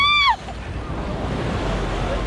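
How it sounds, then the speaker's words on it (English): Big ocean waves break and wash along the beach at Grand Cayman, a loud continuous roar of surf with wind buffeting the microphone, opening with a brief high squeal. "Here we go, big waves."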